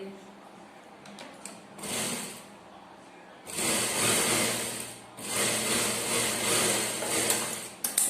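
A sewing machine runs in bursts stitching along the edge of a blouse, a brief whir followed by two longer humming runs with short pauses between, while someone speaks during the gaps.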